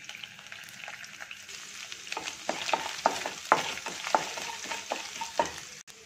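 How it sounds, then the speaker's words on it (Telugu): Finely chopped ginger frying in oil with urad dal for tomato bath, a steady sizzle with repeated scraping stir strokes building in the middle, close and fairly loud, no talking. "ఒక స్పూను సన్నగా తరుక్కున్న అల్లం ముక్కలు వేసుకుందాము."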